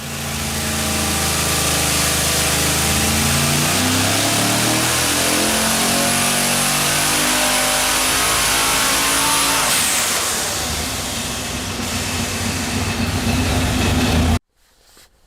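A junkyard LS engine with twin two-stage Borg-Warner turbos roars on a dyno, loud and sustained, with pitch sweeping up and down through revs for about fourteen seconds before cutting off abruptly.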